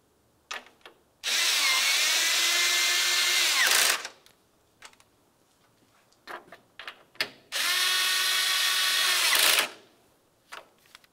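Two 10mm bolts are run in with a power drill-driver on a 2009-2019 Ford Flex AC condenser: two sustained whirring bursts of about two and a half seconds each, separated by clicks and clatter of handling, close and loud.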